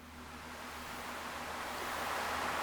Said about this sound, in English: Listen to that beautiful sound of the ocean.